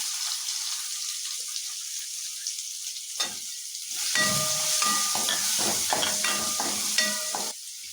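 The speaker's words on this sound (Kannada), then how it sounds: "ಈ ಈರುಳ್ಳಿ ಚೆನ್ನಾಗಿ ಫ್ರೈ ಆಗಬೇಕು" Finely chopped onion frying in a pan for egg masala, a steady close sizzle and hiss broken by spatula scrapes and stirring clatter.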